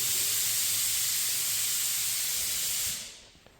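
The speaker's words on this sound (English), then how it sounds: "Every time I try to speak, that compressor goes off." An air compressor runs in a car workshop, giving a steady loud hiss over a low hum that continues for nearly three seconds before cutting off and fading into quiet.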